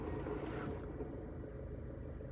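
A steady, low mechanical rumble comes from the transmission of a high-mileage Honda Civic LX idling with the clutch pedal pressed in. The drone is continuous, and the upper hiss drops away after the first moment. No one speaks.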